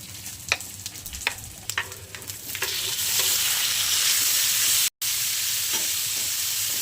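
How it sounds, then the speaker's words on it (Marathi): Tomatoes sautéed in oil in a pan for Puneri misal pav sizzle up close, with several sharp stirring scrapes at first, then a steady, louder fry hiss after a brief break. "असं थोडंसं मी तरी पण तेलात परतवून घेणार आहे ह्याला"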